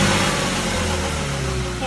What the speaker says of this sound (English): Pump still makes some noise